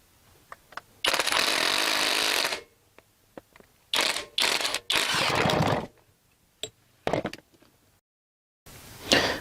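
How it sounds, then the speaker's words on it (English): A self-tapping screw is power-driven through copper pipe and aluminum on a DIY bicycle kickstand extension. Several loud, close, whirring bursts of driving are separated by short pauses and faint clicks. "Now use my self-tapping screw and just put in and secure everything together."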